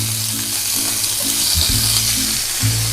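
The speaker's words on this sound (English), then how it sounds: "We just stir fry the asparagus a little bit, and we stir fry a little bit of the shrimp." Asparagus and shrimp stir-frying in a cast iron pan: a loud, steady sizzle runs throughout, with a low rumbling hum beneath it and no voices.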